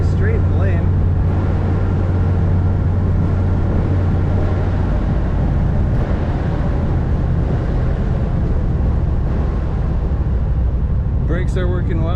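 A 1964 Ford Galaxie 500 convertible cruises along with a steady low engine and road rumble, wind and tyre noise filling the background throughout.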